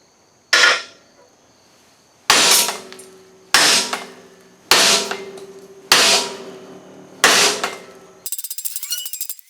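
A small hammer strikes a full-tang sword handle clamped to a heavy table, six sharp loud metallic blows with ringing decay spaced about a second or two apart, followed by a brief rattling buzz.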